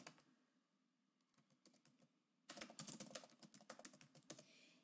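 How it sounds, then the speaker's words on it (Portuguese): Computer keyboard typing as a dancer's full name is entered into an online registration form, quiet scattered keystrokes first, then a dense quick run of clicks, close and soft with no voice. "Você vai digitar o nome completo do seu bailarino."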